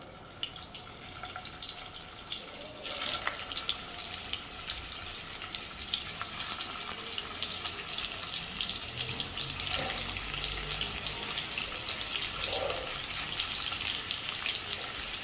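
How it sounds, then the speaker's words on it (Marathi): Stuffed bitter gourd (karela) frying in hot oil in a pan, a faint, steady, hissing sizzle with scattered crackles and pops running throughout. "मी इथे तेल गरम करून घेतलं एका पॅनमध्ये आणि मस्त ही कारली अशी तेलामध्ये सोडते"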